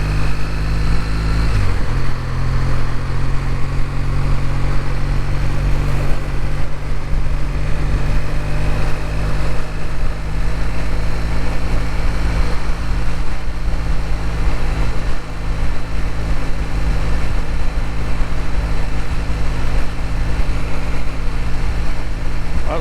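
Kawasaki W800 motorcycle with new exhaust pipes idling and revving, a steady loud engine drone with a deep low rumble that holds throughout, plus a brief bump near the start.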